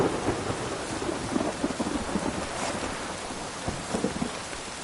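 A rainstorm in The Witcher 3 video game: steady rain hiss with low thunder rumbling throughout, a constant wet wash punctuated by soft crackles and no speech.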